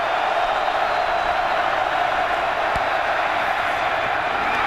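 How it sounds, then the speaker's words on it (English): Stadium crowd noise at a 2008 Texas Tech versus Oklahoma State college football game forms a loud, steady roar that fills the whole stretch, with faint voices underneath. "Crowd noise, a factor."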